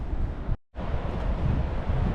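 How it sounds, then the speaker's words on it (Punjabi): Strong wind roars across the microphone over heavy surf crashing on a black sand beach along a forest trek in New Zealand, loud and continuous apart from one brief dropout. "ਹਵਾ ਤੇਜ਼ ਹੋਣ ਕਰਕੇ ਤੇ ਸਮੁੰਦਰ ਵੀ ਪੂਰਾ ਜ਼ੋਰਾਂ ਤੇ ਚੜਿਆ ਹੋਇਆ"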